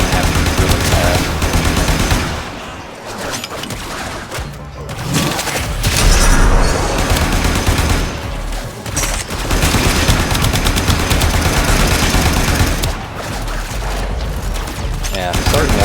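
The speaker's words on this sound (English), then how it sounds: "especially with all these different enemies shooting at you" Enemy gunfire in the Warframe video game: dense, loud bursts of automatic weapon fire and booming impacts crackle almost continuously, with short lulls between volleys.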